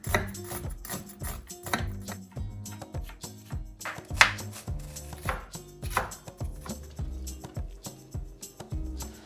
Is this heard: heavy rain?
no